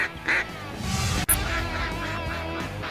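Several nasal, honking quacks from a duck call in a video game, close and fairly loud over a busy background of game music and effects.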